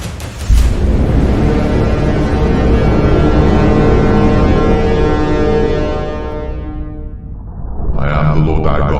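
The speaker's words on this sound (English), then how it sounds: "The voice of the trumpet sounded long and waxed louder and louder" A trumpet sounds one long, loud, sustained blast that holds steady for about six seconds and then fades, followed by the start of another strong tone.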